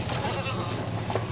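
Young pack goats bleat while being loaded, a dense, continuous stretch of close bleating over broad background noise.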